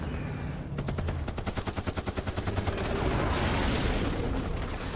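Rapid automatic gunfire in the video game Lost Planet, a steady burst of loud repeated shots rattling for about two seconds before blending into a dense roar of continuous fire and explosions.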